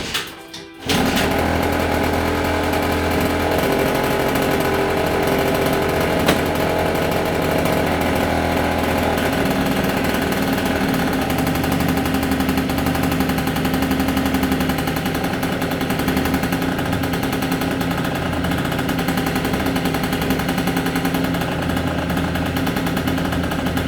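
An MBK Booster 70 scooter fitted with a Malossi kit fires up and idles steadily as it warms, a loud, close, buzzing two-stroke drone that holds an even pitch throughout.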